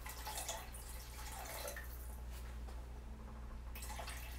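Water runs and trickles into a cooking pot for chicken stew, a steady pouring wash with small splashy drips, close and fairly quiet, no voices.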